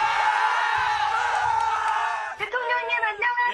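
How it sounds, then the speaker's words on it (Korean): A large crowd cheers and screams loudly for the president visiting a military recruit training center, a dense sustained roar that dips near the end with some shouting. "함성 소리에 대통령이 보이지를 않았습니다."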